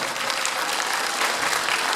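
Concert audience applauding a singer at a charity evening, a thick, even wash of many hands clapping at once, loud and continuous with no talk over it.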